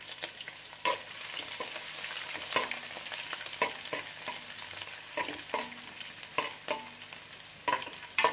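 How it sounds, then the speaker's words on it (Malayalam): Chopped garlic, ginger and green chillies frying in hot oil, a soft continuous sizzle broken by frequent spoon scrapes and clinks against the pan, close but quiet. "അപ്പം നമ്മൾ അരിഞ്ഞ് വെച്ചേക്കുന്ന വെളുത്തുള്ളി ഇഞ്ചി പച്ചമുളക് എല്ലാം നമ്മൾ അതിൻ്റെ അകത്ത് ഇട്ട് കൊടുത്ത് മൂപ്പിച്ചെടുക്കും"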